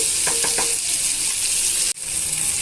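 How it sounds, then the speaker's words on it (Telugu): Thinly sliced potato pieces sizzle steadily in a hot pan while a utensil stirs them, with a few scraping clinks early on and a brief dip near the end, close and loud. "ఇప్పుడు మనం ఇందులోనే కట్ చేసి పెట్టుకున్న బంగాళదుంప ముక్కల్ని యాడ్ చేసుకోవాలండి"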